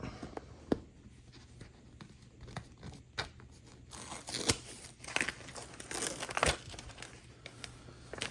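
Heat transfer vinyl for dark fabrics is peeled slowly off pressed fabric after cooling, giving close, crinkly, sticky crackling and ripping sounds with sharp little snaps scattered throughout.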